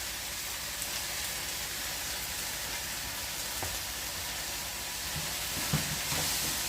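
Beef chow mein stir-frying in a wok with spring onions. A dense, steady sizzling hiss runs throughout, with a few soft knocks near the end.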